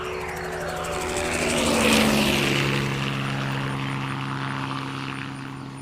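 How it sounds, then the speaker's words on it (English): Rotor drone of helicopters during a magical event in the Teletubbies and Friends video game, a steady whirring swell that builds to a peak around two seconds and then fades slightly while continuing, with no talking. "Oh, I see 4 helicopters."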